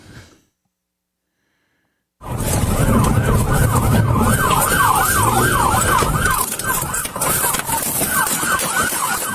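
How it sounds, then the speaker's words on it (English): Loud wailing sirens rise and fall in rapid overlapping cycles after a brief silence, with traffic rumble underneath. "Sirens are really loud."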